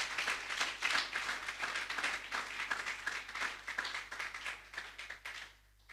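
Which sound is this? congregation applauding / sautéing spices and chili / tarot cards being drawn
congregation applauding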